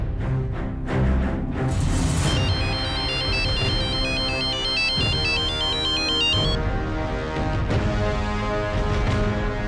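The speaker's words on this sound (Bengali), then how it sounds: "সিলভাকে তুমি ফোন করো" A phone ringtone plays loud and close, a melodic electronic tune with repeating high chime notes, alone without speech.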